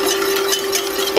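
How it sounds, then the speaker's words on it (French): Vanilla seeds stirred into a hot coconut mixture in a pan, a soft, steady scraping swirl heard close up with no talk. "Et je mélange."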